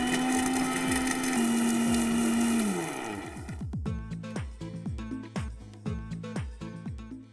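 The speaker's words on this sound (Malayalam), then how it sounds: "നെക്സ്റ്റ് നമ്മുടെ കാഷ്യൂ 1 ആയിട്ട് വേണം ശരിക്കും അത് പൊടിച്ചെടുക്കാൻ" A mixer grinder pulverises cashews, starting as a loud steady high-pitched motor whine, then slowing into a rhythmic series of thumping, churning pulses as the jar's contents tumble, with no voices.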